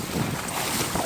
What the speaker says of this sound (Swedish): Oh, här kommer mer vind.